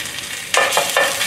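Ginger and garlic hit a hot pan for moo shu, a soft sizzle joined by a few quick stirring scrapes in close succession, near and fairly loud, with no talking.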